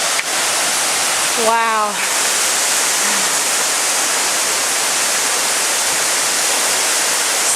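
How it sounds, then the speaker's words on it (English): Skookum Falls, a horsetail waterfall fed by Skookum Creek, pours as a loud, steady broadband roar that fills the whole span, with one brief spoken exclamation near the start. "It's known as a horsetail type falls"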